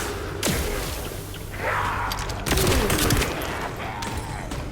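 Revolver gunfire in the video game The First Descendant: a few sharp, heavy shots spaced apart over game effects and background clatter, loud and close.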